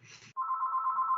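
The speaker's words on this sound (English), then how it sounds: "Oh no, that's the phone." A telephone rings during a podcast, heard as a short burst of noise followed by a single steady electronic tone that holds for nearly a second, clear and moderately loud with no talk over it.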